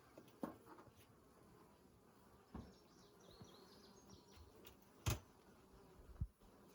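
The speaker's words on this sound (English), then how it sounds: "After you've smoked them, you'll hear them buzz up, and then they'll start to calm down in the sound" Honey bees in a hive stirred up after smoking give off a faint, steady buzz, broken by a few sharp knocks and thumps nearby.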